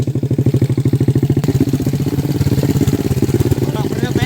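An original, brakeless motorcycle engine runs steadily on a mountain ride to a tribal mining area, its rapid even pulses loud and close, with a brief bump in the middle.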